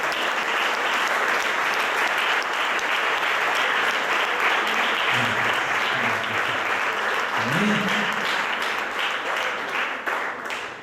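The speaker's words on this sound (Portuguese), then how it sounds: "Receba o seu pastor, aplaudimos Jesus." A church congregation breaks into sustained applause, loud and steady throughout, with faint voices and shouts rising briefly beneath the clapping before it tapers off near the end.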